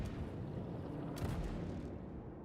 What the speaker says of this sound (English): That sounds like a Perseus cannon.